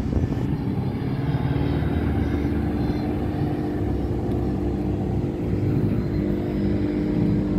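A race car engine at Slovakia Ring, a continuous loud rumbling drone of engines idling and revving nearby, with no voices.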